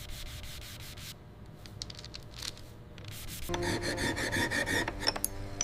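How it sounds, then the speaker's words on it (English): Fine, gritty rasping of sanding on a small gold casting of a miniature trophy, soft at first and then growing louder and brighter, with short strokes near the end. "Sanding removes every trace of roughness from the casting."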